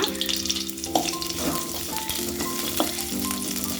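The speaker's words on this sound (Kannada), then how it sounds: "ಒಂದು ಈರುಳ್ಳಿ ಹಾಕ್ತಿದ್ದೀನಿ ಆಗಿ ಫ್ರೈ ಮಾಡಿರಿ ಈರುಳ್ಳಿನ" Chopped onion frying in a pan for egg sambar, a steady close sizzle with harmonic music over it and a few stirring clinks.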